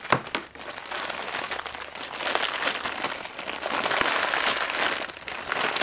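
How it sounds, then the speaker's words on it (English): Loud, close crinkling and crackling of stiff plastic packaging on a happy mail parcel as it is cut open with scissors, continuous rustling with sharp snaps throughout. "apologize for all of the crackling of the plastic, but it's really very well packaged"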